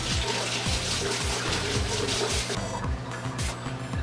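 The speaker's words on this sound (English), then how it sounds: "Oh yeah, we have to wash our hands first." Hands being washed under a running tap at home, a steady rushing stream of water with splashing and rubbing throughout, fairly close.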